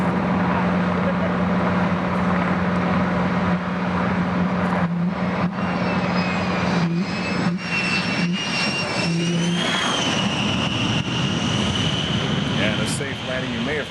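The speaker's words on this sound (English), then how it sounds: "That's why they call it the nickname the Hoover of this airplane, as they adjust the throttles and those engines make the sound of a vacuum cleaner." S-3 Viking jet landing on an aircraft carrier, its engines giving a loud, continuous vacuum-cleaner-like whine and roar that rises in pitch near the end, with someone talking over it.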